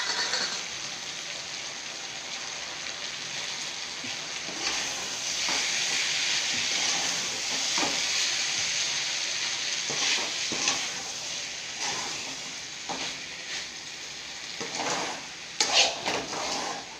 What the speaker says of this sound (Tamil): தேங்காய் போட்டு கொஞ்சம் நேரம் வதக்கணும்.